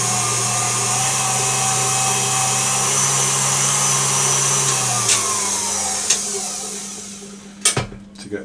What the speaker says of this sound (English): I'm just going to whisk that